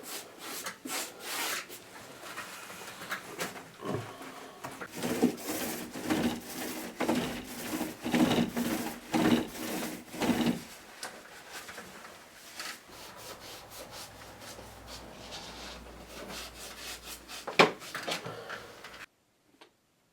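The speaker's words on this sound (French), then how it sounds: "Et puis ensuite on repassera donc pour égaliser les bords avec le petit rouleau" A small paint roller rolls over freshly painted bathroom wall in a continuous sticky, rubbing rasp with repeated back-and-forth strokes, close and steady for most of the stretch, then stops abruptly near the end.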